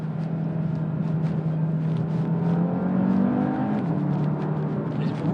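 Audi RS3 engine holding a steady, loud drone while accelerating on the road, with the pitch rising and shifting midway, heard from inside with no talk.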